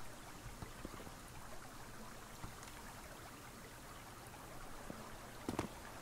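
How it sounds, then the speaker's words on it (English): Waterfall in a wilderness setting, heard as a faint, steady wash of rushing water, with a few soft knocks and a brief louder clatter near the end. "Oh, we got the falls."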